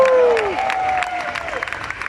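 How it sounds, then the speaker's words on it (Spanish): At a wrestling fan convention in Chile, applause from the fans rattles along in a hall, clapping mixed with crowd noise beneath a voice that rises and falls over it. "Por favor, un aplauso también por ustedes que están acá con este calor enorme."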